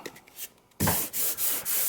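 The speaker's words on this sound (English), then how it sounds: "I've got a sanding block with a piece of 320 on it." Hand sanding with a block and 320-grit paper: faint scraping strokes, then louder, rhythmic rasping passes back and forth, close up.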